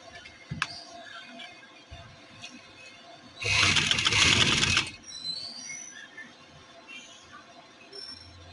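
A sewing machine runs in one loud burst of rapid stitching lasting about a second and a half, sewing lace onto a printed suit neckline, with quieter handling sounds before and after.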